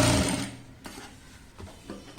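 A sewing machine stitches fabric for a puff sleeve frock in a short loud burst that stops abruptly, followed by a few faint clicks and handling sounds.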